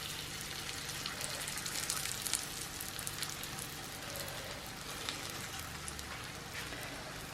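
Ghee warming in a hot pan, giving a steady, fine crackling sizzle like light rain that carries on evenly throughout, close up and without any talking.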